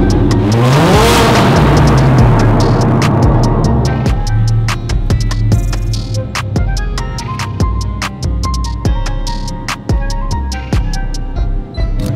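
A car near a spiral parking-garage staircase revs and drives off, a loud engine roar swelling and falling with a tire squeal, then fading into echoing rumble and clicks in an enclosed space.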